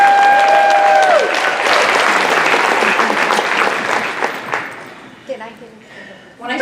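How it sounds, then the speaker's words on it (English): A conference audience breaks into loud, dense applause that holds steady for several seconds before tapering off, with a speaker's voice at the start and more talk emerging as it dies down. "Another round of applause"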